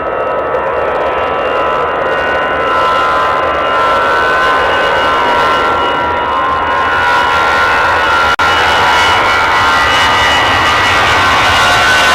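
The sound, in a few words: Airbus A321 jet at Edinburgh Airport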